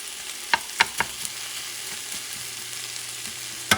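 Cod paella (bacalao) ingredients get stirred in a sizzling pan, with a steady frying hiss throughout and a handful of sharp spoon clicks and scrapes against the pan, no speech.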